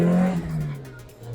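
Mazda Miata MX-5 engine with a 6,500 RPM redline, driven as a track-day car, gives a loud, close, continuous drone that eases slightly in pitch over little more than a second.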